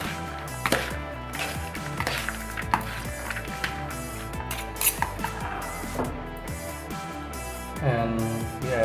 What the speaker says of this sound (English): And then we stir it.